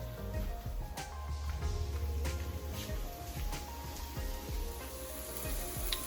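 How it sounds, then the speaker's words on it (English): Onions sautéing in a pan over low heat, giving a steady, close sizzle and crackle with occasional soft stirring scrapes throughout. "So you have the onions sauteed on a low heat."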